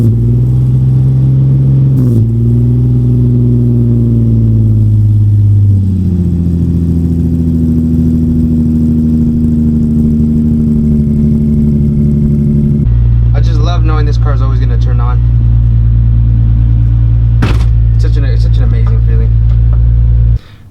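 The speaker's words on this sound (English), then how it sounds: "Connect the battery and we can start the car again." A Nissan 350Z race car engine cranks, catches and runs at a steady loud idle with small shifts in pitch, then settles into a deeper rumble before cutting off at the end.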